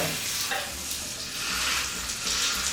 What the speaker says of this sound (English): we're trying to hear that sear